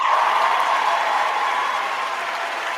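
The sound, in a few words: applause sound during a live stream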